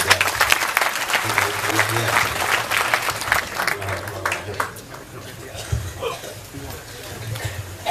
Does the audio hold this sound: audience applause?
yes